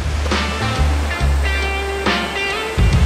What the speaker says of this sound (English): one which is the footbridge, and that overlooks the waterfall behind me